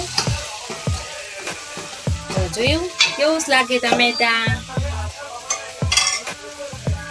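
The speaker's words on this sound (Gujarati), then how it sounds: "પેલા હું ચમચો લઈને ફેરવી નાખું" A spoon stirs chopped tomatoes with turmeric, coriander-cumin powder and red chili in a pan on a gas stove, giving repeated close scraping strokes over a steady sizzle, with a voice speaking briefly.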